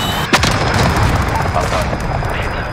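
Dense gunfire and booming artillery in a Call of Duty Modern Warfare Headquarters match, loud and continuous with sharp reports rising from a steady rumble of battle noise.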